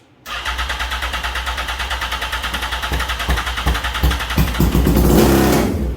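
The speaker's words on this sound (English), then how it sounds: "It's got no exhaust on it, so remember it's straight piped right now and it's very, very loud" A loud, raw 2005 Yamaha R1 motorcycle engine with no exhaust fitted runs close by with a harsh, rapid popping idle that rises slightly toward the end.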